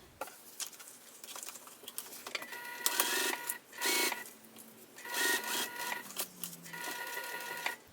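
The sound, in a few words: sewing machine top stitching a crossbody bag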